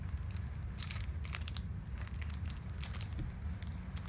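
Soft plastic crinkling and tearing as shrink-wrapped 30mm 3x3x3 picture cubes from Party City are unwrapped, quiet and close with scattered crackles over a low background hum.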